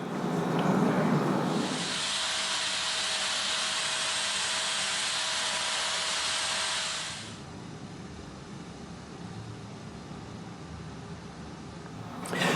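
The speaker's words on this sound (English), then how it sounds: "maybe with the contour sander, just tidy it up a little bit, sand it" Contour sander working over a small wooden trivet, a steady loud hissing whir for several seconds that then drops to a quieter, softer rasp before a brief bump at the end.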